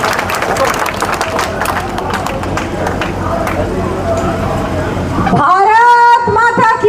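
A rally crowd breaks into loud applause and cheering to welcome Rajasthan's deputy chief minister at an election meeting in Devsar village, the clapping building strongly near the end amid babble and an announcer's voice over a PA.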